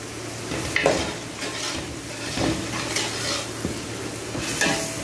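Ginger garlic paste, curry leaves and mint fry in a large pan for a veg kurma, giving a continuous soft sizzle with repeated scraping stirs and occasional light clatter.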